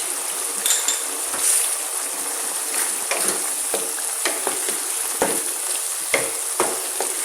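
Mutton liver fries with cumin, coriander and crushed chili in a pan, giving a steady sizzle. Sharp clinks of a utensil against the pan are scattered irregularly throughout.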